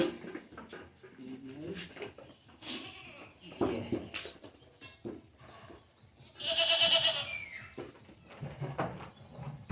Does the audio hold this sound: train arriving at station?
no